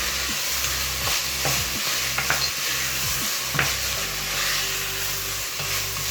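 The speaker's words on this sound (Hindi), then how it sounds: "सब्जियों को थोड़ा सा भूनने के बाद," Vegetables with green chili stir-fry in a pan for a chicken pasta. A continuous close sizzle runs under repeated scraping and clanking strokes of a spatula stirring.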